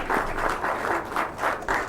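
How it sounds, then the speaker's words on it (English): Audience applause at a chamber of commerce candidates' forum, a steady wash of many hands clapping throughout, fairly close and continuous with no talking. "let's give a big round of applause to the folks who"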